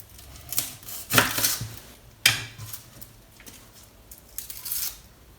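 A knife chops shallots on a cutting board in a kitchen: a few separate, sharp knocks and slicing crunches with short pauses between them, close and fairly quiet, with no talking.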